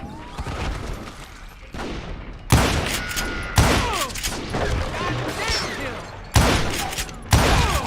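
Video game gunfire erupts in loud, sharp bursts and volleys, separated by brief gaps of ringing, clattering aftermath, with heavy impacts recurring every second or so.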